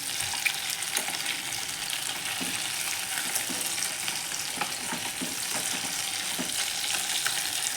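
Boiled eggs fry in masala in a pan, giving a steady broadband sizzle with light scraping and stirring clicks throughout, close and continuous, with no talking.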